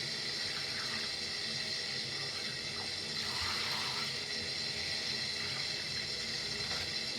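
Tap water runs steadily into a sink while a kitten is washed, a continuous close splashing stream with no talk.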